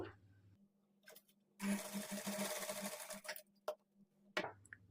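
A sewing machine stitches folded blouse fabric in a short close whirring run of about two seconds, with quieter clicks and handling sounds before and after.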